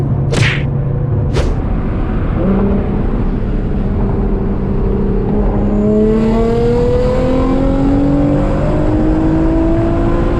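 A Nissan GT-R R35 accelerating hard on the road, its engine note climbing steadily in pitch as it pulls through the revs, with two sharp hissing turbo blow-off bursts near the start, loud and close throughout.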